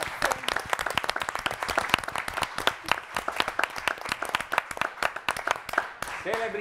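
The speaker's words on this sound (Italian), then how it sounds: "vogliamo fare un piccolo applauso" Audience applause for a guest during a Celebrity Hunted cast livestream, dense rhythmic clapping from several people close by, with talk audible underneath toward the end.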